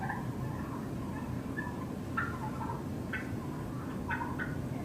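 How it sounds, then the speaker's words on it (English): Domestic turkeys on a small farm calling and gobbling in short, repeated bursts, some closer and louder, over a steady outdoor background hum with no talking. "These are pretty happy turkeys."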